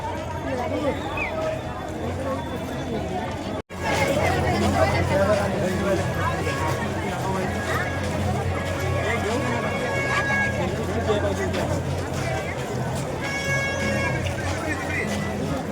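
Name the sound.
dense crowd chatter at Bhima Koregaon Shaurya Din gathering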